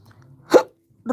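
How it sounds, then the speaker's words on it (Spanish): A single short hiccup bursts out in the middle of a quiet moment, with a brief voice starting just after it. "Ay, me dio hipo."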